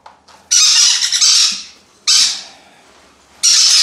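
Small conure parrots let out three loud, harsh squawks close by, each a long piercing burst separated by brief quiet gaps.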